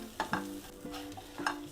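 Chili powder and Byadagi chili powder frying in a pan for avarekalu saaru, stirred with a few distinct scraping strokes over a soft, steady sizzle, close and moderately quiet.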